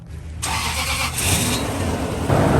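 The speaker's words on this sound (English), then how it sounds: "now we're gonna start the engine" A Toyota 2UZ-FE V8 in a 100 Series Land Cruiser cranks and catches after a brief quiet moment, then settles into a loud, steady running rumble close by during a heater hose replacement.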